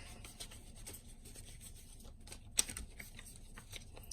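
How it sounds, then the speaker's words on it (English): Soft, quick riffling and patting of tarot cards being shuffled, a dense papery flutter with one sharper snap, close and quiet. "Oh, now they're getting hard to shuffle."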